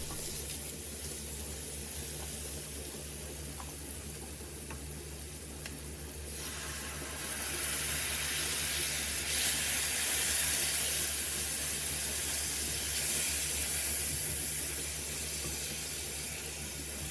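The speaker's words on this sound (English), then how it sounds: "mix and fry for a minute" Curry base and chicken sizzle in a pan for a British Indian restaurant style chicken tikka jalfrezi, a steady hiss that rises louder partway through and continues alone without talk.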